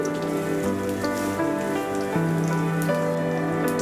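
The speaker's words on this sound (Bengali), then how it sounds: "এবারে এই তেলের মধ্যে দিয়ে দিব রসুনটাকে থেতো করে নিয়েছি, গোটা জিরে" Crushed garlic and whole cumin seeds hit hot oil left from frying rui fish, giving a steady, dense crackling sizzle that continues throughout, with some tonal background sound running underneath.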